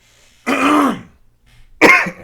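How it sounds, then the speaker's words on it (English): A man clears his throat twice in quick succession, a long rasping clear followed after a short pause by a second sharper one, close and loud with no talk. "I have to clear my throat."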